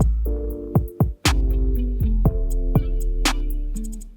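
A short hip-hop beat made in FL Studio, before mixing, with booming bass, punchy kicks and snappy snares over a sustained melodic layer, loud and unmixed-sounding, no voices.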